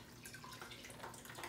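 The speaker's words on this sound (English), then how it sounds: "I'm gonna go ahead and open up the water nozzle a little bit. I'm letting water out slowly." Water trickles slowly out of a pipe through a partly opened nozzle, a faint, steady dripping and splashing with no voices.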